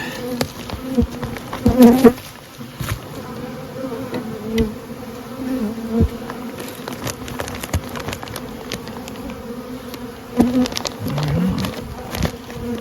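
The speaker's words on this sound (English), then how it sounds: "These bees." Honey bees from Saskatraz colonies buzz steadily in a spring bee yard, a close, continuous drone with individual bees swelling loudly as they pass near and fade away.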